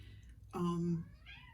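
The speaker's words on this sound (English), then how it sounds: "My cat Sophie is in the background meowing and kind of punctuating for me" A pet cat meows once, clearly and fairly close, in an indoor room, a drawn-out cry rising out of quiet background noise, with a softer trailing call after it.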